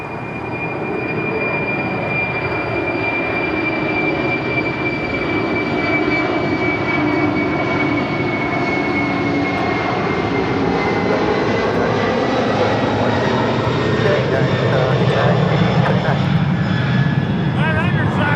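Atlas Air Boeing 747-400 converted freighter, 29 years old, taking off from LAX bound for Travis Air Force Base, its engines a loud, steady, building jet roar across the whole stretch, with a faint whine sliding down through it.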